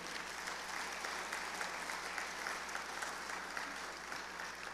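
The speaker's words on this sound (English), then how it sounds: "I want to give a round of applause to you" A conference crowd at an oil and gas industry event breaks into steady applause, a dense even patter of many hands sustained throughout at moderate level.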